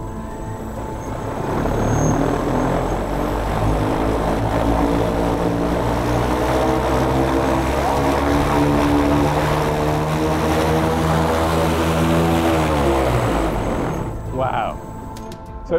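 An electric aircraft motor spins a propeller up to speed, producing a loud, steady droning hum with a tonal whine that holds for about thirteen seconds before easing off near the end.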